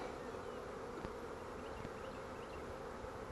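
Honeybees buzzing during a February hive inspection, a dense, steady swarm drone close by, alone without voices.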